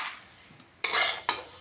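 Rice dry-roasting in a pan with two sharp scrapes of the spoon against the metal, each followed by a dry rustling shuffle of grains, close and alone after a quiet start.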